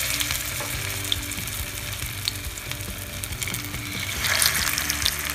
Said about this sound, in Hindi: हमें टिक्की को स्लो फ्लेम पे शैलो फ्राई करना है।